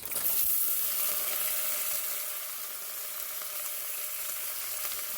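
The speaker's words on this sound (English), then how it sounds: "y'all hear the sizzling in there?" Frozen green beans sizzle in a pan with a quarter cup of olive oil, a steady bright crackling hiss up close, slightly louder at the start and then settling.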